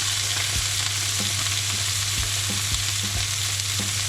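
Thin steak sizzles steadily in a pan with onion and rosemary, a close, continuous hiss with scattered pops and crackles and no voices.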